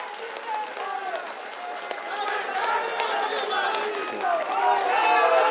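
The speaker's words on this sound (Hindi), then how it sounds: "अगर आप अजय राय जी को समर्थन दे रहे हैं तो एक बार दोनों हाथ उठाकर तालियां जोरदार ढंग से बजाइए।" A large crowd at a political rally in India claps, a dense sustained burst of applause that swells slightly toward the end, with voices mixed in.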